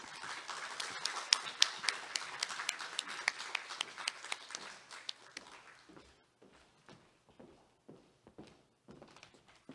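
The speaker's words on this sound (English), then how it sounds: "please help me welcome Distinguished Professor Emeritus Kyung-wha Kang to the podium with a warm round of applause" An audience claps for a lecturer stepping up to a podium, a dense patter of many hands that thins out into scattered, fading claps, fairly quiet and distant.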